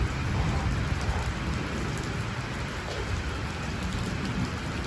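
Steady, dense rain hisses throughout with a low rumble of thunder underneath, fairly distant and continuous.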